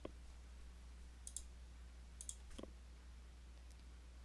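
Several faint, quick mouse clicks, some in close pairs, over a steady low hum while working in reporting software.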